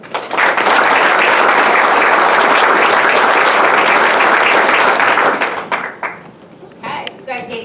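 Sustained applause from a banquet crowd honoring a senior soccer player and varsity cheerleader at a school senior sports banquet, loud and dense for about five seconds before tapering off into scattered claps and murmuring voices.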